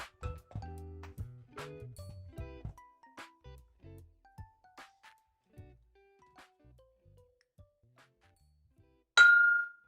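Glass clinks against glass once, a short bright ring that stands out loud and alone at the end after a stretch of quieter rattles and knocks while coffee gear is handled.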